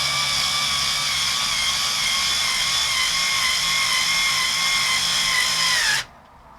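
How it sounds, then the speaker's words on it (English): A low-power drill driving screws while installing a Kwikset Kevo 925 smart lock whirs steadily at a constant high pitch for several seconds, close by, then cuts off abruptly leaving quiet. "Now I'm using a low power drill so I don't strip anything."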